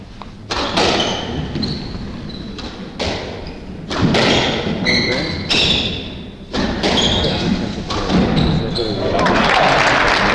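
Squash ball struck repeatedly during a 1998 men's 30+ world doubles match, sharp hollow thuds from racquet and wall in quick rallies, with shoe squeaks, crowd noise and a commentator talking over the play.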